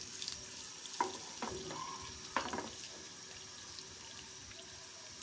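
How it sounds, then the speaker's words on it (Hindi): Garlic frying in oil until golden brown for tempering sarson ka saag: a steady, faint sizzle runs throughout, broken by a few light clinks near the start, with no talking. "लहसुन हमारे गोल्डन ब्राउन हो जाएंगे तो फिर हम इसको"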